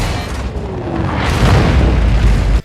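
A deep, roaring movie explosion played through a Dolby Atmos 7.2.4 Klipsch Reference Premiere speaker system rumbles and swells for a couple of seconds, then cuts off abruptly.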